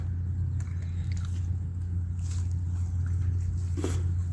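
A dog chewing and chomping outdoors, faint irregular crunchy bites over a steady low engine-like hum.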